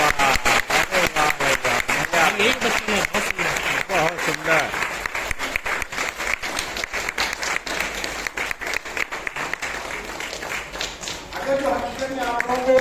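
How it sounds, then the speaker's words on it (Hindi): Sustained applause from a large crowd at an Ambedkar birthday gathering, dense steady clapping filling the hall as guests are welcomed onto the stage, with a voice speaking briefly over it near the start and end. "आप सभी लोगों से कि हर तालियों से उनका स्वागत करिएगा।"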